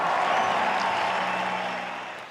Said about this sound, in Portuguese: Aplaudido de pé pela torcida, o adeus do operário do tênis